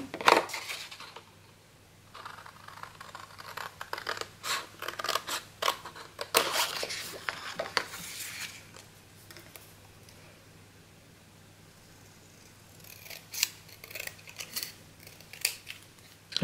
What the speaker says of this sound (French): vous pouvez découper l'étiquette avec le massicot si vous voulez ou au ciseau comme ça